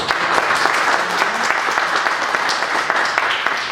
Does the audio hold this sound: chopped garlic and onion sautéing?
no